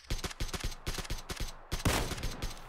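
Rapid automatic gunfire in PUBG Battlegrounds, a dense string of sharp shots in quick bursts with brief gaps, loud and close, no talk over it.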